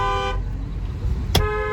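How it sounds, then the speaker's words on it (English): A car horn toots in two short blasts, one at the start and another near the end, over steady road and engine noise from inside a moving car. "she just keep thinking these people be honking at her"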